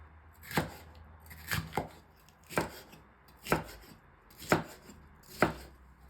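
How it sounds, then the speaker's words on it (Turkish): A knife chops bell peppers steadily on a cutting board into thick half-moons, six crisp thuds in a loose, even rhythm with quiet pauses between strokes. "temizlediğimiz biberlerimizi yarım daire şeklinde hafif kalınca doğruyoruz"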